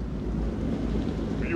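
A stormy night in the horror game Man of Medan: a dense, unbroken roar of rain and wind with low rumbling, steady and close, no speech.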